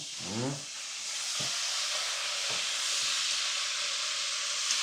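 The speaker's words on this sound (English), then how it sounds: "Sizzling." Chicken sizzles in hot oil with a constant crackling hiss, frying crispy Jamaican style; a brief voice sound at the start, then steady frying alone.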